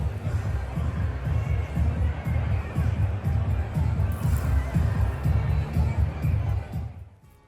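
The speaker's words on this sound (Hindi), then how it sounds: "ट्रंप की रैली में नजर आई हजारों समर्थकों की भीड़।" Thousands of supporters at a Trump rally in Pennsylvania form a dense, steady crowd roar with a babble of voices and occasional shouts, holding constant before cutting off at the end.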